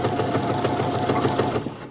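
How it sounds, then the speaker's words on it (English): A sewing machine runs steadily, stitching a few centimetres of a bodice seam for a Vogue 8577 dress, its rapid needle pulses continuous and close before tapering off near the end. "sew a few centimetres"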